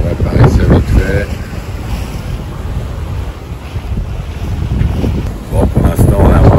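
A sailboat under way in wind with its mainsail missing, crossing from Madeira to the Canary Islands: steady wind buffeting the microphone over water rush and wave wash, with a voice talking at the start and end.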